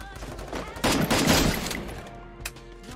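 Gunfire in the shooter game Free Fire sounds as a burst of rapid shots, dense and loud for about a second, then thinning into scattered pops against a busy game background.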